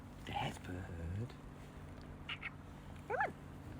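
A pet bird gives a few quacking calls near the mic in a cold winter setting, scattered across a short stretch, with a person talking over and between the calls.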